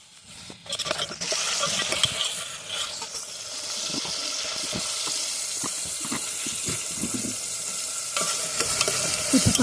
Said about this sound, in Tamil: வெந்தயத்தை போட்டு வெங்காயம் தக்காளி எல்லாம் போட்டு